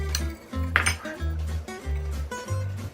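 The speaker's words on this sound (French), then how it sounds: "Dans un autre bol, mélangez des œufs." Repeated clinking and scraping of a utensil against a bowl while mixing eggs, with a steady rhythmic stirring beat and a few brighter taps, close and fairly quiet.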